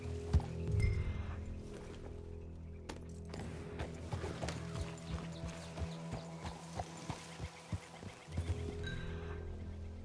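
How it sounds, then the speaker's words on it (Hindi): Horse hooves clip-clop at a steady walking pace while riding in Red Dead Redemption 2, the regular thuds fairly close beneath a low game ambience, with no talking. "घोड़े पे जाना है ना, तो घोड़े पे चलना"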